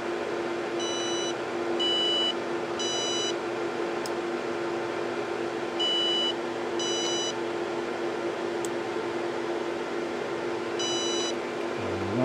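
Bursts of high electronic alarm beeps from a Cell Log 8 battery monitor, each a quick cluster of short tones, repeat in groups over a steady mechanical hum.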